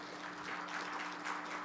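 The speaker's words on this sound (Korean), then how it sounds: "목사님 나오실 때 큰 박수로 환영해 주시기 바랍니다" Faint, steady applause fills a church hall at a children's ministry teachers' revival meeting as a pastor comes forward, a soft wash of clapping with a low hum underneath and no voices.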